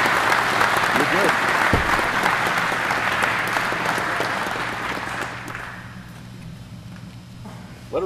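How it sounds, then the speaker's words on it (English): Audience applause at a hangar talk event, dense steady clapping from a sizable crowd for about six seconds, then fading out, with faint voices and footsteps underneath. "Give him a round of applause."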